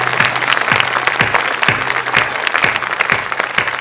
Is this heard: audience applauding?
yes